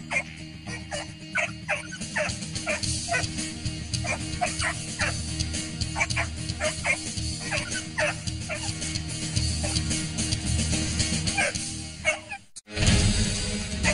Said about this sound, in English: Caesar has his hands full with a one-eyed dog named Duck Duck, who is so scared he attacks anything that gets near him